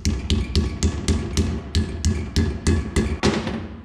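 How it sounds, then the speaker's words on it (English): Bearing seal being tapped into a disc brake rotor on a 1967 Ford Mustang, about a dozen sharp, close metallic taps in a steady rhythm, with no one speaking. "These are pretty easy, you can just kinda tap them around like this"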